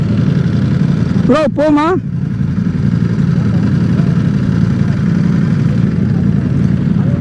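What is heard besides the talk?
Ducati V4S motorcycle engine with CS Racing exhaust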